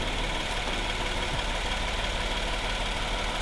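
A Hyundai Palisade 3.8-litre gasoline V6 with 4WD idles, giving an even, continuous mechanical hum with a faint rhythmic knock, close and steady throughout with no voices.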